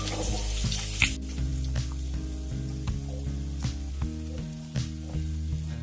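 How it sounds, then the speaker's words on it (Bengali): Snake gourd sizzles steadily in hot oil in a pan with bay leaves, a continuous fry with a few scraping stirs and clinks of the utensil; no one talks. "চিচিঙ্গেটা দিয়ে আমি একটু নাড়াচাড়া করে নেব।"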